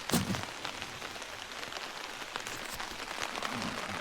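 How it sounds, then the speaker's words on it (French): Steady rain falls on a wintry morning, a close, continuous hiss of drops pattering on surfaces with a brief louder splash at the start. "Il n'arrête pas de pleuvoir."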